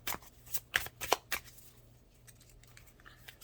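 Tarot cards being shuffled and drawn: a handful of crisp riffling flicks bunched in the first second and a half, then quieter rustling handling of the deck.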